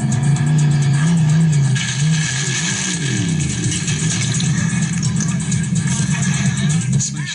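A drag racing funny car with a stuck throttle roars continuously and loudly, its engine pitch wavering up and down without letting off.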